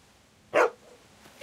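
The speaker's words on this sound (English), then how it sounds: "What are you barking at, Baba?" A dog in The Walking Dead video game gives a single short, sharp bark at close range, with a quiet pause afterwards and the start of another brief sound at the very end.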